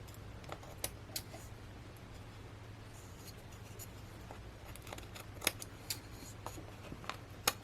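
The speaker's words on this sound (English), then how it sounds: "I'm going to use my scissors again, and we are just going to cut these down" Quiet, sparse snips of scissors cutting through thin vinyl, with a steady low hum in the background and no talking.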